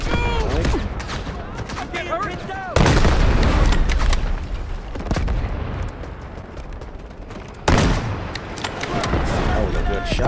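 Tank cannon and gunfire in the Delta Force video game: heavy booming shots at intervals over a dense bed of rattling gunfire, loud and close, with a few words spoken over the battle.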